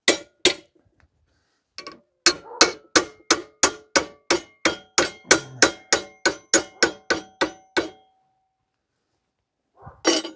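Hammer tapping a metal part over in a workshop, about two dozen steady ringing metallic strikes in a brisk even rhythm, close and loud, with a few scattered taps before and after.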